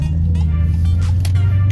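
A car being driven hums with a constant low engine and road drone heard from inside, with a faint voice briefly audible over it.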